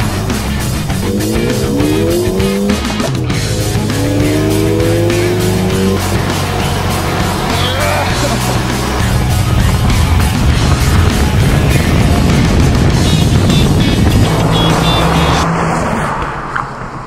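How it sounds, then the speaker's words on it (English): A Ford Fiesta ST drag racing an automatic Ford Fusion: loud engines roar and climb through the gears, with tire squeal at launch and revs rising and falling, heard close and continuous. "Okay, drag race in the Fiesta ST."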